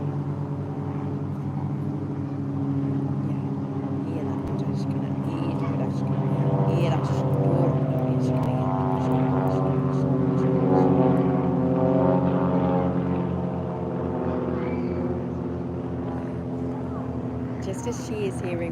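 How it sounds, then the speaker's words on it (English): An aeroplane passing overhead, a steady droning engine hum that swells toward the middle and fades again, heard under a calm speaking voice throughout. "the sound of the aeroplane goes by"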